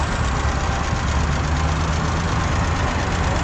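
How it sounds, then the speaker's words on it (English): A 1950 John Deere Model B tractor runs at a parade, its engine giving a loud, steady low chugging rumble up close for the whole stretch, with no voices over it. "1950 John Deere Model B"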